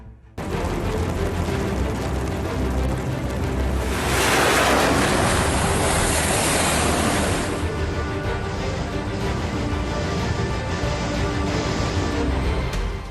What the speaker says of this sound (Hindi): बंगाल की खाड़ी में समंदर का सीना चीरकर आगे बढ़ते जंगी बेड़े